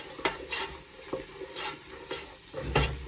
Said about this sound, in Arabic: نحمص المعجون